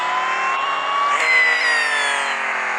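A small toy Mini car racing up a ramp, a continuous high whirring motor whine that rises slightly in pitch, loud and close throughout with no talking.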